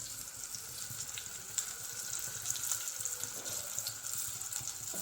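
Fish coated in salt and sorghum flour frying in hot oil, a steady close sizzle with crackling throughout, no talk.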